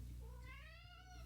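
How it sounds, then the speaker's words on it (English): A female cat meows in one drawn-out, rising-then-falling call, close and clear over a low background hum, with no talking. "She starts meowing."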